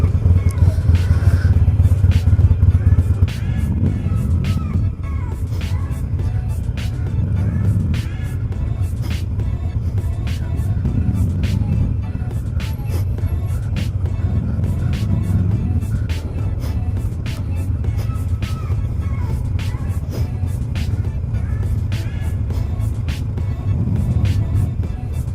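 A Harley-Davidson Iron 883 rumbles steadily while riding through traffic, the engine's low throb rising and falling with throttle, mixed with wind buffeting and frequent ticking clicks.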